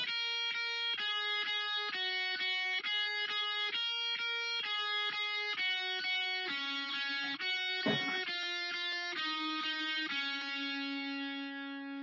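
Electric guitar plays a single-note line, each note picked twice in an even rhythm, clean and sustained with no voices.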